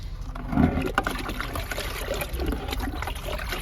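Liquid fertilizer poured onto a large lemon plant, a steady splashing trickle of water running continuously throughout, close by with a brief louder gush near the start.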